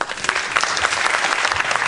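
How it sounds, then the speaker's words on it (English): Live audience at a Las Vegas talk show applauding steadily, a dense even patter of clapping that carries through the whole moment with no voices on top. "Give him a round of applause."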